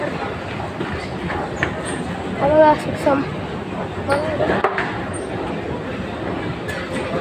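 A moving train rumbles steadily with clattering wheels and brief metallic squeals, heard from inside a carriage while people talk over the noise.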